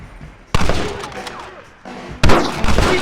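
Gunfire erupts in a Red Dead Redemption shootout, bursts of loud shots and impacts layered with battle noise and shouting voices.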